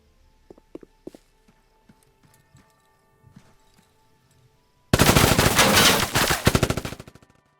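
Submachine gun fire in the video game Resistance & Liberation: after scattered faint clicks and footsteps, a loud, sustained rapid-fire burst erupts and rattles on for over two seconds before tapering into a few final shots.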